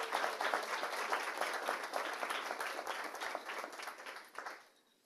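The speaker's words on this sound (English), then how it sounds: "let's give them a round of applause anyway" Audience applause at a school board of education meeting, honoring a fifth grade team: a steady wash of many hands clapping at moderate level that tapers off and fades out near the end.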